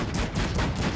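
Rapid gunfire in BeamNG Drive, a quick run of loud, closely spaced shots in a steady burst, alone without talk.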